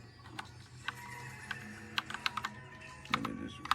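Clicky keystrokes on a pink retro typewriter-style keyboard with round keycaps, sounding as a loose, irregular run of close, crisp taps over a low hum, with a few quick doubled strikes and no talking.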